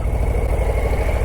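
A Harley-Davidson Low Rider ST engine idles close by, a steady low rumble with an even pulsing throb throughout.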